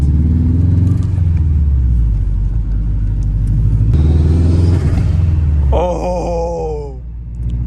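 A 300-horsepower Subaru WRX pulls away as the clutch is let out, its engine droning loud and close with a steady rumbling groan that rises in pitch toward the end.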